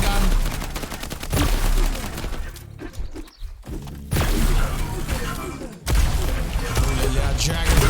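Fast video game deathmatch action with super shotgun blasts and rocket fire, dense bursts of booming shots and explosions in quick succession with a short lull in the middle.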